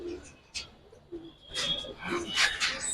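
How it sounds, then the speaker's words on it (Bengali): Giribaz pigeons cooing in a loft, a few soft low coos and calls, fairly faint and close, with brief rustling between them. "তারপরে এটা একটা সিলভার কবুতর আলহামদুলিল্লাহ অনেক ভালো কবুতর"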